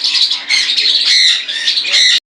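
Pineapple conures, a pair of small parrots at a bird farm, squawk in harsh, shrill bursts almost nonstop, loud and close, with no talking.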